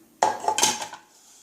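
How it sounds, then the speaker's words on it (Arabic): Sugar and eggs being mixed together in a bowl for small jam cookies, a short burst of clinking and scraping against the bowl lasting under a second, close and fairly clear with no talking. "نخلطو كلش مع بعض، نديرو السكر مع البيض"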